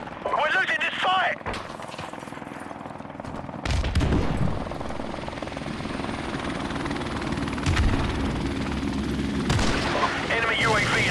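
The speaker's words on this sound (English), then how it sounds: "Helicopter inbound." Helicopter rotor drone from a Call of Duty Modern Warfare Remastered team deathmatch, a steady low thrum running the whole time with bursts of gunfire and game voices over it.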